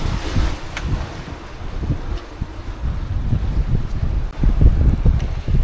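Sailboat running downwind at about five knots under genoa alone, with strong buffeting wind noise on the microphone and the rush of water and waves around the hull, no talking.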